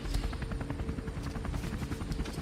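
A helicopter drones with steady low rotor thumping, sounding distant and fairly quiet, a continuous beat with no speech over it during a tabletop crime role-playing session.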